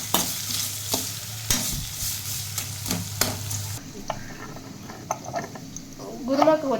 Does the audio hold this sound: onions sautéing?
yes